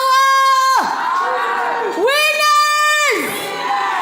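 A crowd at an awards ceremony cheering and whooping in loud, sustained bursts, voices rising and falling together close by.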